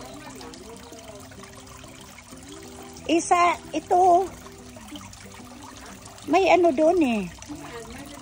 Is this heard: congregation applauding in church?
no